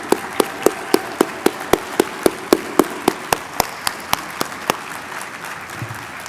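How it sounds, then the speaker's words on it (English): Audience at a conference's closing remarks claps for the planning committee as a standing ovation is invited: sharp, evenly spaced single claps near the mic, like one person clapping steadily, over a softer wash of scattered clapping that thins out toward the end. "Come on, give them a standing ovation."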